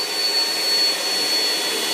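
A household vacuum cleaner, used indoors as a joke hair-grooming tool, runs steadily with a loud, continuous whirring drone that holds level throughout, with no voices over it.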